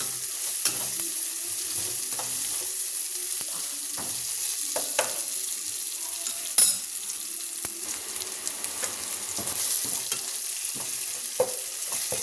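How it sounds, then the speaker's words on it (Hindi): Boiled rice is stirred into roasted masala in a pan. A steady sizzle runs underneath, and a spoon scrapes and clinks against the pan in irregular strokes, fairly close, with no talking. "इसको भुना उबाला चावल डालें, मिक्स करना है।"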